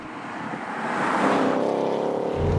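The V8 of a Ford Mustang Mach 1 builds from a moderate drone into a louder, rising roar as it is driven hard through corners, staying fairly close and steady.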